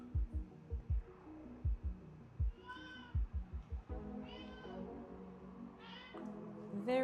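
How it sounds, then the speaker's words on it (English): A house cat meows loudly, repeating drawn-out, rising calls every second or so over a steady run of soft, rhythmic low thumps nearby. "The cat is being Very difficult."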